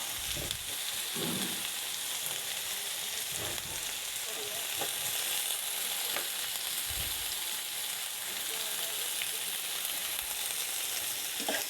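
Food fries in a pan with a continuous close sizzle and scattered low thumps of handling, with no talking.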